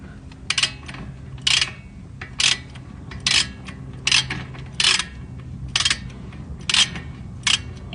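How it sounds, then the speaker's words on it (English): A ratchet wrench tightens a rear brake caliper bolt on a 2019 Mazda CX5, with about nine evenly spaced bursts of crisp, close ratcheting clicks, each lasting a fraction of a second over quiet background. "You tighten the bolt."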